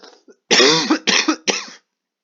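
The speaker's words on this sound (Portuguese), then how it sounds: "Estou com uma tosse." Three harsh coughs in quick succession, close and fairly loud, after a brief faint breath or murmur.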